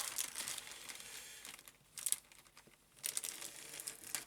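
Plastic bag of model kit parts being opened, with close crinkling and rustling in short bursts separated by quieter handling, faint overall.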